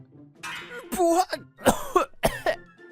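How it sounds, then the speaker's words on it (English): A few loud, voiced coughs in quick succession, close by, with short gaps between the bursts. "I coughed loudly."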